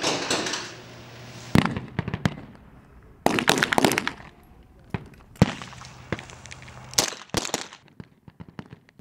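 Weapons fire on a shooting range firing line, with sharp gunshot cracks arriving singly and in quick clusters at irregular intervals and ringing out in the open with brief echoes, some close and some farther along the line.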